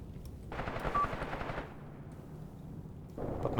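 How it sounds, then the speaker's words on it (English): Machine gun fire from a Graviteam Tactics battle sounds as a sustained, moderately loud burst of rapid shots, fading briefly before another burst starts near the end. "he's shooting into my flank with a machine gun"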